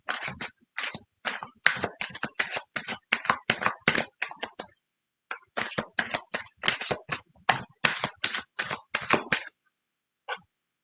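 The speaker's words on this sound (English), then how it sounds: "let me just shuffle again" A deck of tarot cards is shuffled by hand in quick, crisp slapping bursts, one run, a short pause, then a second run, ending with a single soft tap.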